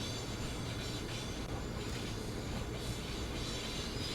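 A steady rumble of train cars in Train Sim World 3 on the Northeast Corridor between New York and Trenton, as passenger cars are cut from the locomotive, with a constant rolling rail noise and no voices.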